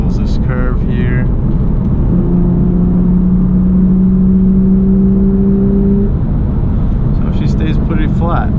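A 2002 Lexus IS300 with manual transmission driving through curves, its engine a steady loud drone and whir with a rising tone mid-run, while a person speaks over it.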